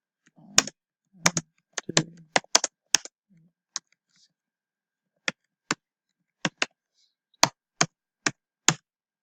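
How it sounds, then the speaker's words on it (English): Close keystrokes on a computer keyboard. Sharp clicks come in an irregular quick burst and are then spaced out more sparsely, with short pauses between them. "So if you want to type something"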